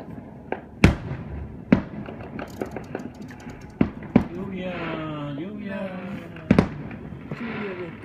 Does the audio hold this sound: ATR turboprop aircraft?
no